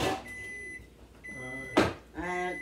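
A kitchen microwave oven humming steadily with a sharp clack partway through and tonal beeps, while a person talks nearby.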